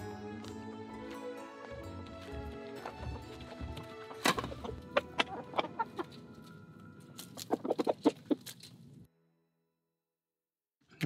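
Chickens of a blue-egg-laying breed cluck repeatedly at close range on a small valley farm in Wanju, Korea. Sharper squawks come near the end before the sound cuts to near silence.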